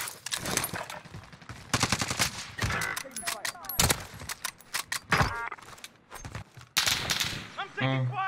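Rapid automatic gunfire and single shots in Call of Duty Warzone on Rebirth Island, loud and close in repeated bursts, mixed with game effects and other sounds.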